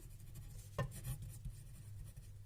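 Marker or chalk strokes on a board during a physics lecture, faint scratchy scribbles with a brief sharper stroke near the start, quiet and close with no talk.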